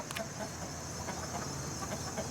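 Excited rooster among hens in a backyard flock, giving repeated short clucks and calls at moderate distance over a steady, noisy background.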